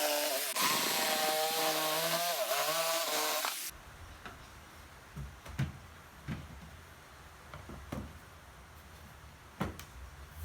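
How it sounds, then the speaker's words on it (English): A jigsaw cuts an access hole from underneath a wooden router table, its loud buzzing motor running for a few seconds before stopping. Quiet knocks and handling clicks of wood follow. "I used the jigsaw from underneath to cut out the access hole for the router."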